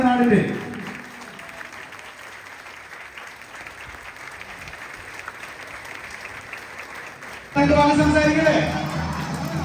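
A crowd at a Malappuram welcome reception for Asianet Star Singers contestants claps briefly at the start, then after a quieter stretch breaks into louder, fuller applause with voices mixed in.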